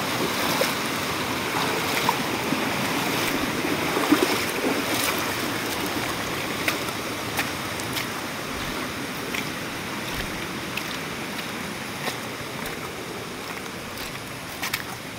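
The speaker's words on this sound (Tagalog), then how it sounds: "may isang sapa na rito" A creek flows beside a rough, slippery trail at dusk, giving a steady broadband rushing of water that stays even and fairly loud throughout, with faint scattered clicks and no voices.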